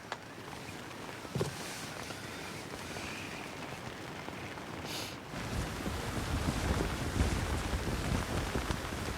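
Strong wind buffets the microphone while waves and pouring rain batter a boat along Greenland's frozen coast in winter, a dense, roaring wash of noise that swells louder partway through.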